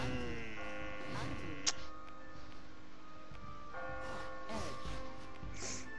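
A tolling bell in the video game Catherine rings out in long sustained tones, struck twice and decaying over steady background sound, with people talking over it.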